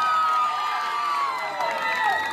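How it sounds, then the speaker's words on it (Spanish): Audience at a pageant applauds and cheers in a steady, dense crowd roar with shouts rising above it, loud throughout the short stretch. "Fuerte el aplauso."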